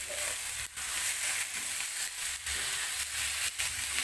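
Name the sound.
chicken frying and being stirred in sautéed spices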